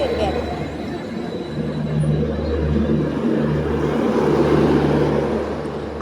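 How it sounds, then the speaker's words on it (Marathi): A train pulls into a railway station at Daund near Pune, its low steady rumble and hum swelling slightly as it nears, with faint crowd chatter mixed into the platform noise. "तेवढ्यात आमची रेल्वे आली."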